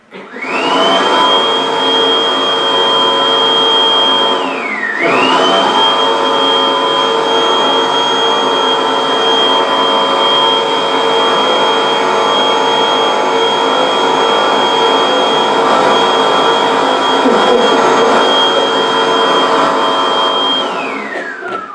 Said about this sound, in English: I didn't know I was going to bring in the hand dryer.